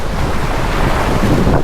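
Surf breaking and wind gusting on a Boracay beach during a storm, a loud continuous roar of waves with heavy wind buffeting the microphone, no voices.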